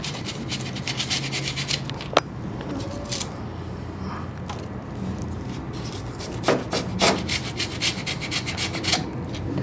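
Fiberglass on a Datsun is shaved by hand with repeated rasping, scraping strokes, close and steady with a few sharper knocks and scratches between them, and no talk.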